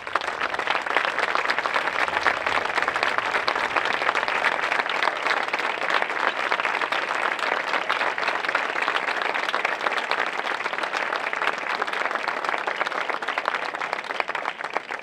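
An audience at a band music concert in Albolote gives a long, loud round of applause, dense continuous clapping that holds steady throughout.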